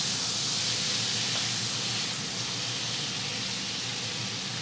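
Ground beef sears in a hot pan with a loud, steady hiss. The broad sizzle stays close and unbroken, with no voices over it.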